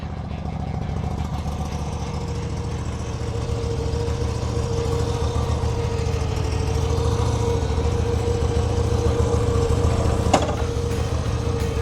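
Moto Guzzi V85 TT motorcycle engine idling near at hand, a steady low throbbing rumble that builds slightly in strength, with a brief click near the end.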